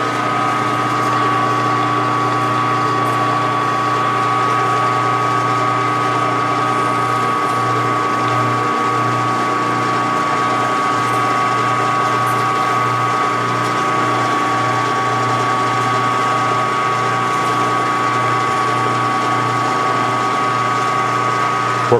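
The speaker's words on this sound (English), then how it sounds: "We're climb cutting through there against the wall, so that'll help not gouge it all up." Small milling cutter climb cutting the wall of a five-cylinder radial engine cylinder head, with a loud steady machine whine and a continuous mechanical hum and no pauses, heard alone.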